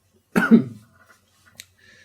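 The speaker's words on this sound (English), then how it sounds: "Oh God, I'm gonna cough." A single harsh cough bursts out, followed by a quiet pause and a couple of faint small clicks or breaths.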